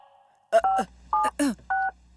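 A quick series of electronic keypad tones, four or five short beeps in uneven rhythm over a low hum, close and clear.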